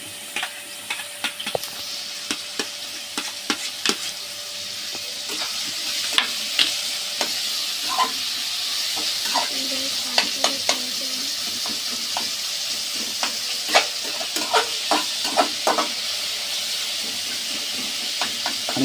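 Onions and green chillies frying in oil for Mumbai-style bhurji, with a steady sizzling hiss and repeated scraping stirs of a spoon against the pan throughout.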